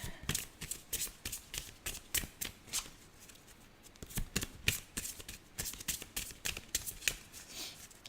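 A deck of oracle cards being shuffled, giving a steady run of crisp riffling bursts and soft flicks that repeat for several seconds, fairly quiet and close, with no talking.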